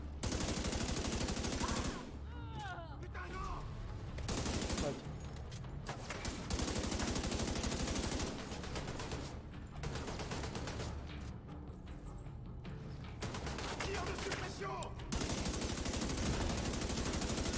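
Gunfire in The Division 2 video game: dense automatic bursts and rapid shots fill nearly the whole stretch, loud and sustained with brief lulls, with game sounds and some talk mixed underneath.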